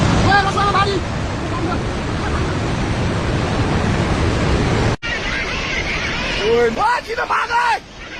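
Floodwater from a burst dam rushing down a river in Nepal, a broad, steady roar with excited voices shouting over it throughout.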